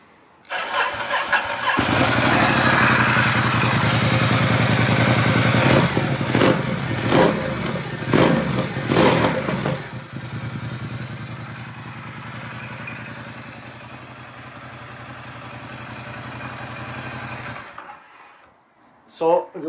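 A Ducati XDiavel S motorcycle engine starts up with a loud burst, then settles into a steady idle before cutting off near the end.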